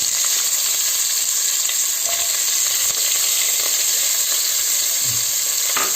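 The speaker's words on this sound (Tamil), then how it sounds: "அந்த வெங்காயத்தை வந்து நம்ம இதில் போட்டுருவோம்" Chopped onions sauté in hot oil over a low flame for a mutton biryani, giving a steady, close sizzling hiss with faint occasional stirring clicks.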